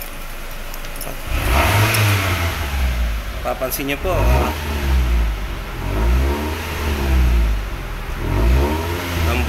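Mitsubishi GSR engine fitted with a PWM hi-low setup, water dripping from its exhaust: a mid-pitched motor revs up and down in repeated rising-and-falling surges over about nine seconds, with someone talking over it.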